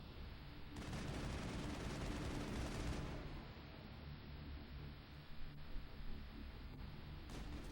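A sustained, rapid burst of gunfire in the video game Mass Effect, fired while the character moves, rattles dense and continuous for a few seconds, then gives way to scattered shots and rumbling battle noise.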